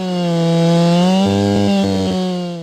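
A chainsaw cuts wood loud and close, its steady high whine shifting slightly as it bogs down and binds in the cut, with no one talking; the bar needs dressing.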